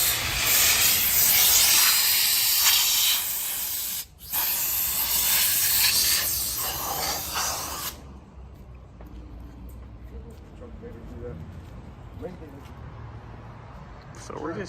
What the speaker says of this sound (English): we sprayed air through, and it literally sprayed like that's like 25-year-old gas